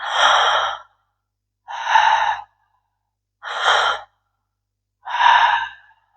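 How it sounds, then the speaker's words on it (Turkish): Four deep, drawn-out breaths of a connected breathing technique, each long audible inhale-exhale separated by a short pause, close and clear with no talking. "Bağlantılı nefes dediğimiz nefes tekniği."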